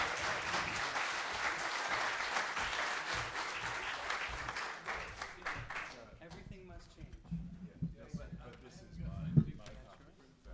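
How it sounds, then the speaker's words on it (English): Applause from a variety show audience for the volunteer baking team: a loud burst of many hands clapping for about six seconds, then it dies away into scattered murmuring, movement and a few knocks. "Let's have a round of applause for the"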